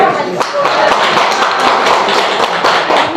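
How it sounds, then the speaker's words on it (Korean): Audience applause at a Korean policy meeting on revising the special act for priority purchase of goods made by people with severe disabilities: dense, steady clapping from a room full of people, loud and continuous throughout. "물론 박수를 일단 치고 마무리하겠습니다"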